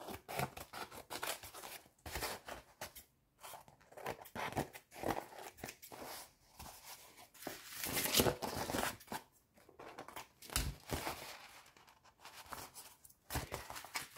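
Scissors cut through coffee-dyed paper in quiet, irregular bursts of snipping and rustling, with short pauses between cuts and no one talking.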